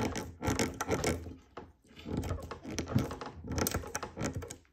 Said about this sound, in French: Et maintenant on visse.